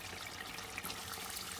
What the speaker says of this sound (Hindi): आधा कप से थोड़ा सा कम पानी ऐड करूँगी